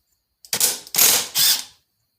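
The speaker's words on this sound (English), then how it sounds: "I'm going to run the flywheel nut off" Three quick rattling, ratcheting bursts from a pneumatic impact tool spinning the flywheel nut off a Husqvarna 385 chainsaw, loud and close with nothing else around them.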